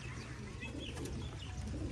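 Chinese pigeons coo softly in a home loft, low rolling calls sounding close but faint and continuous over a quiet background.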